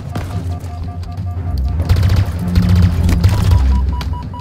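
Turret fire in the video game Halo Infinite, with heavy booming and thudding blasts that build into a dense, sustained barrage in the foreground.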